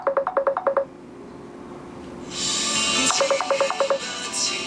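Telephone keypad dialing tones ring out as two quick bursts of evenly spaced DTMF beeps, with a broad hiss rising between them.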